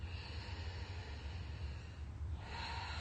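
Deep, steady breathing during a yoga session, heard as a continuous close airy rush of inhale and exhale with a brief dip near the end, with no talking.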